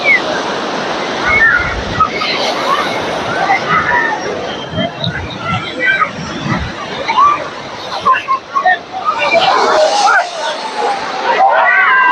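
Surf rolls continuously onto the sand at Puri beach while a loud crowd murmurs and calls out over the steady wash of breaking waves, the roar swelling and easing throughout.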